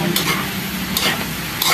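Chicken intestines (isaw) fry in hot oil with a steady close sizzle, broken by a few brief scraping stirs of a utensil in the pan.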